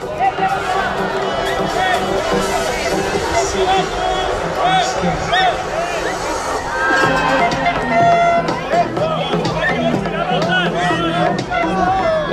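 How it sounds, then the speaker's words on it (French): At an under-21 France versus Spain match, the crowd claps and cheers in a dense roar, with music and an announcer's voice layered over the noise throughout. "rythmez par vos voix et vos applaudissements"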